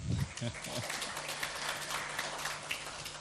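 Wedding guests from both families at a church ceremony in Ujung Menteng clap for one another, a fairly faint, diffuse patter of hands after a few voiced bursts at the start.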